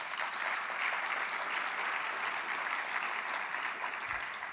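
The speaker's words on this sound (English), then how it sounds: "I think we need another round of applause" Audience at a plenary session on global surgery and mentorship applauds continuously, a thick, even patter of many hands clapping, fairly distant and soft, with a low thump near the end.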